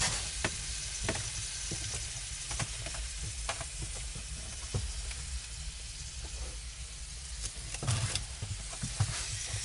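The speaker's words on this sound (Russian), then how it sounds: "А на обед у нас сегодня жареная картошечка с дичью." Potatoes fried with game meat sizzle steadily in a pan inside a cabin in the taiga, with scattered clicks and scrapes of stirring over the hiss and no talk.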